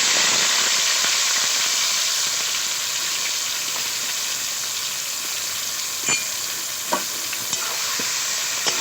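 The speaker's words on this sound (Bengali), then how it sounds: "আমি ফোড়নের জন্য শুধু গোটা গরম মশলা দেব আর ম্যারিনেট করা চিকেনটা দিয়ে দেব।" Marinated chicken fries in hot oil with whole garam masala, giving a loud, steady sizzle and hiss throughout, with a few stirring clinks near the end.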